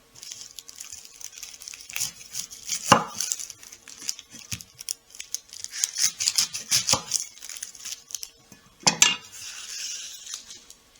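Knife slicing onions thinly on a cutting board in a home kitchen while pickles are being made, a few sharp knocks of the blade against the board over soft scraping and clatter, with no talk.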